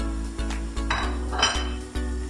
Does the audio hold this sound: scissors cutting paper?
no